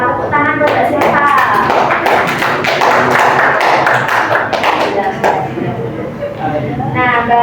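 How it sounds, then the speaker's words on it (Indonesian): A classroom bursts into applause for a student, many hands clapping loudly and steadily, close and continuous throughout with a few voices mixed in. "Tepuk tangan buat Mbak Silva."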